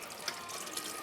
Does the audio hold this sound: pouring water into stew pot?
yes